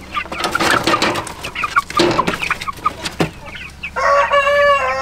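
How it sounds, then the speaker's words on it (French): Several ornamental chickens cluck and squawk nearby in busy, uneven bursts, ending with a longer drawn-out call. "C'est des poules d'ornement, elles sont assez jolies"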